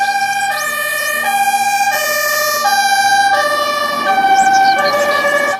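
A toy fire truck's electronic siren wails loudly and steadily, alternating two-tone pitches in a repeating, continuous pattern with no talking over it.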